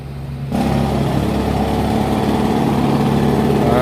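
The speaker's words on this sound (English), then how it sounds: "They're drilling a hole into right in the middle of the road." Roadwork machinery drilling a hole in the middle of a Brooklyn street starts abruptly and then runs as a loud, steady engine drone with a constant low rumble.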